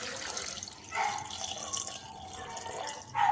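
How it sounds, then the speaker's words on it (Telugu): A glass of water is poured into a bowl of cut tomatoes for a tomato chutney, making a close splashing, gurgling flow that swells in short surges, with no one talking. "ఒక గ్లాస్ అంతా వాటర్ పోసేసుకోవాలండి."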